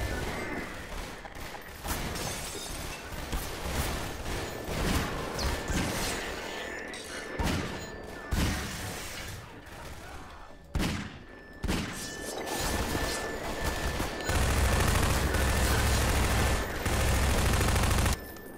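Rapid bursts of automatic gunfire in Garry's Mod, with dense irregular volleys and clattering mechanical clicks running continuously and loudly, ending in a sustained roar of fire.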